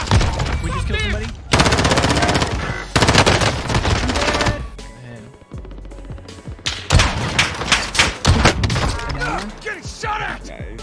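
Rapid automatic gunfire and bursts of shots from a Call of Duty Warzone match, loud and close, with heavy fusillades, thuds and explosions coming in waves, mixed with game noise and voices.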